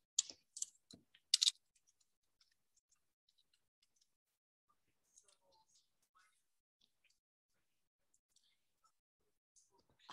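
Keyboard typing and mouse clicking at a computer while logging into a college website, with a dense burst of sharp clicks and key taps in the first moments, then sparse faint ticks and a few late taps.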